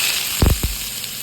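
Skin-on potatoes frying in hot oil with a chili and black cumin tempering give a brief, close sizzling hiss, broken by a few quick clattering knocks around the middle.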